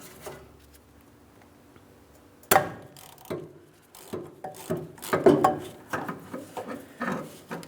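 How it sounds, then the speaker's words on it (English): A long ratchet works loose a 13mm rear brake caliper mounting nut on a 2015-2025 Ford Transit 250. A quiet start gives way to a sharp clunk, then a run of irregular metallic clicks and knocks nearby. "Typically, once I get this broken free, I can switch to a ratcheting wrench. But generally I start with a long ratchet."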